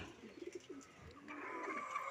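Pigeons coo in soft, low, close bursts, a few throaty calls at first, then a fainter steady background of birds and ambient noise.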